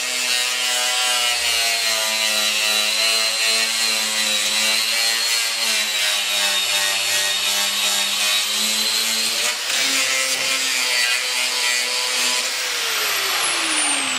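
A small power sander with 80-grit sandpaper working on the front left wheel well of a 1970 Volkswagen Beetle, making a steady, loud, close grinding whine with slight shifts in pitch and no talking.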